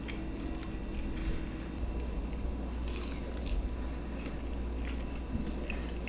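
Close, continuous soft chewing and biting of cheesy food with sauce, slightly soft rather than crunchy, eaten at a mukbang, with small wet mouth sounds and faint crunches steady throughout and no talking.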